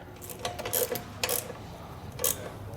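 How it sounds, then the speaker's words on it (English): A ratchet re-securing the shock absorber on a trailer's 5th wheel pin box air spring, giving several short bursts of quick mechanical clicking with pauses between them, close and alone. "Now we're going to re-secure our shock absorber here."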